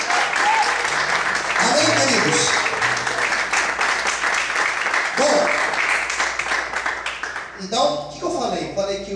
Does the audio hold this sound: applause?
yes